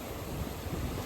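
Broad, steady ocean surf washing in with a constant rushing texture and some wind noise, filling the short moment evenly with no voices.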